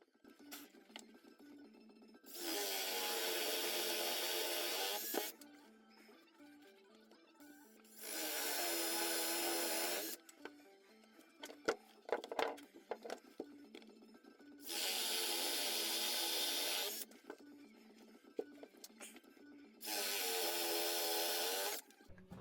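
A drill fitted with a Forstner bit hogs out wood for a guitar build, whirring loudly in four separate bursts of roughly two to three seconds. Knocks, taps and wood clatter fill the pauses between them.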